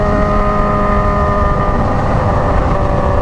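A Honda Hornet and a Yamaha Fazer 600 motorcycle race at speed, a loud steady engine drone with sustained tonal whine and heavy low rumble, no gaps, no voices.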